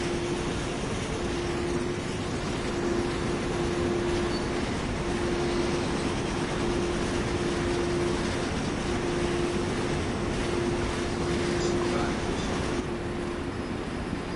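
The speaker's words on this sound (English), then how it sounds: "Oh, where's my train? There's my train." A train in Train Sim World on the Main Spessart Bahn: a steady, continuous rumble with a sustained tonal hum running throughout, fairly even in loudness for the whole stretch.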